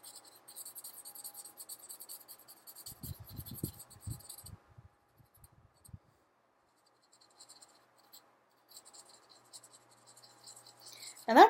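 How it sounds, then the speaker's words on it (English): Pencil or marker strokes scratching across a paper card as it is coloured by hand, a short burst of rapid close scraping followed by quieter intermittent strokes over a steady high background hiss. "I'm gonna color this card."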